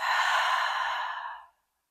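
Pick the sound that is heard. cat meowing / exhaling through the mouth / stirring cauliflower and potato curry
exhaling through the mouth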